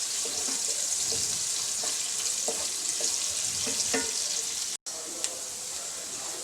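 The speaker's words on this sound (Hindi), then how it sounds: "पैन में मैंने आधा कप ऑयल डाला है और अनियन डालकर मैं इसको लाइट गोल्डन कर लूँगी" Onions frying in half a cup of oil in a pan for a potato curry, a loud continuous sizzle with faint stirring clicks and a brief dropout near the end.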